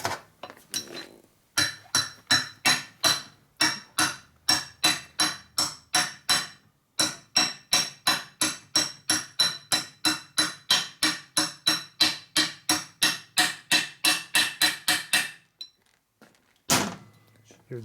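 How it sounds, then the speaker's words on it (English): A special pipe coupler tool is hammered to drive a seal into a 1979 Harley-Davidson Shovelhead 80ci engine during a motor rebuild. Dozens of sharp metallic blows land in a steady, fast rhythm, broken by a few short pauses. "So I'm using my special pipe coupler tool."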